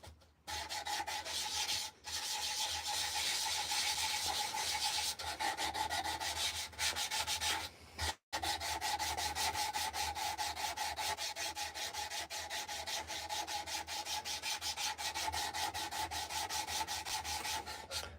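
A carved wooden spoon is sanded with a sandpaper block, a continuous close rasping rub of quick repeated strokes that only breaks off for a moment partway through.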